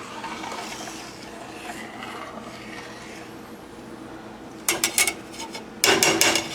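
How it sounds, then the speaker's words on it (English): A whisk gently agitates buttermilk curds in a pot, with soft quiet stirring at first, then a few bright metallic clinks against the pot near the end. "Now you don't want to whisk this briskly. You simply want to agitate it gently."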